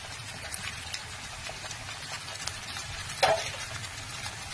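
Onion paste frying in a pan for a chicken gizzard and liver cutlet, a steady low sizzle with faint scraping stirs and one sharper clink partway through, no voices.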